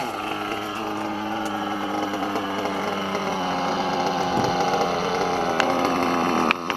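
A Hyper 7 nitro RC car engine idles low with a steady, buzzing drone, running slightly rich after muddy bashing in the rain, close and continuous with a few small clicks near the end.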